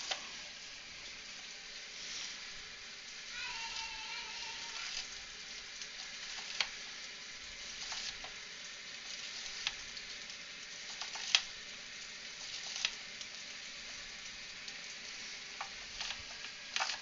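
Food frying in a pan gives a continuous, faint sizzle with scattered small pops and ticks, steady throughout and with no voices over it.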